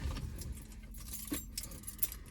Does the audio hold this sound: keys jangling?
yes